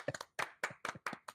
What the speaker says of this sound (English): hand clap right there